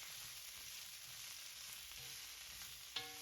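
Green beans sautéing with garlic in a cast iron wok give a steady, faint hissing sizzle throughout, with a small clink of a utensil near the end and no talk.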